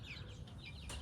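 Missouri chickens on a cold, rainy farm, a few soft clucks close by, brief and faint over a low background rumble.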